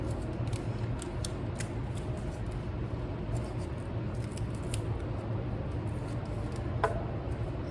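A strip of tape is pulled and wrapped around a paper tube, giving crinkly ripping and sticking sounds over a steady background hiss, close up and without speech.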